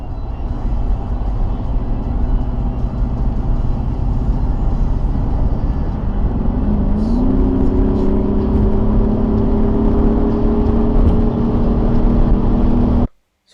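Audi SQ8 TDI diesel V8 heard as a loud, steady engine drone with a low rumble, rising to a higher sustained rev partway through, then cutting off abruptly at the end.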